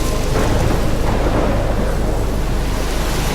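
Thunderstorm from the video game Life is Strange: dense, loud rain hiss with a deep rolling thunder rumble underneath, continuous and close throughout.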